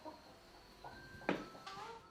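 Chickens in a video game minigame give a few brief, soft clucks over quiet background ambience.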